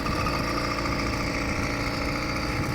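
A 100cc two-stroke engine on a motorized bicycle runs steadily up close, a loud continuous buzzing drone with a dense, even pulse and no pauses.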